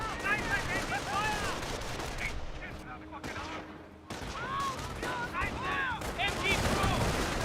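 MG42 machine gun fire in the World War II strategy game Company of Heroes, loud rapid bursts mixed with explosions and other battle noise, with a voice talking over it.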